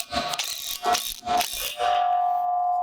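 A ratchet tightens a large-diameter concrete anchor bolt holding a post to a concrete footing, making four close clicking strokes, then a steady mechanical whir that rings on.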